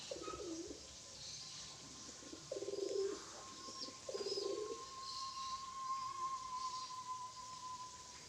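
Collared pigeon in flight carrying a sawangan whistle, a steady faint whistle tone sustained through the clip, with a few soft bird coos and chirps heard outdoors at a distance.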